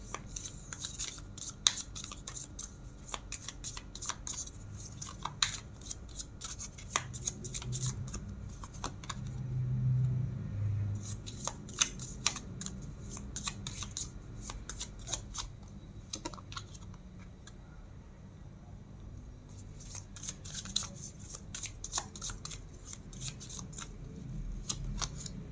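Tarot cards being shuffled and handled, soft close riffles, taps and paper clicks in quick irregular bursts with brief pauses, faint and intimate with no talking.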